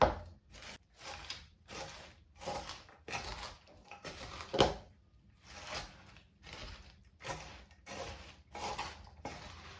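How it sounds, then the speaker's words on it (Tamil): Boondi laddu mixture being mixed with cardamom powder, a steady rhythm of quiet crunchy, squishing scrapes repeating about once a second, close and fairly soft. "போட்டுட்டு எல்லாம் மிக்ஸ் பண்ணி விடுங்க"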